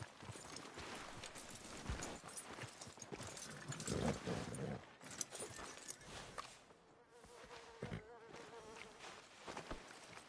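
Horse hooves clop along at a walking pace amid a busy, buzzing soundscape with low rumbling, in the video game Red Dead Redemption 2.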